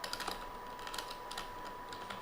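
A password being typed on a computer keyboard, quick soft clicking keystrokes in an uneven rhythm, faint and close, with no speech.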